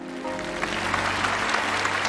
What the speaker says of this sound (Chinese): 再次掌声感谢陈老师给我们带来的精彩开讲